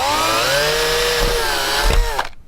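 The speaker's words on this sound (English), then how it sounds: "And you drill." A power drill whines loudly at a steady pitch drilling a hole for a camper van porthole, briefly rising as it bites, then cuts off abruptly.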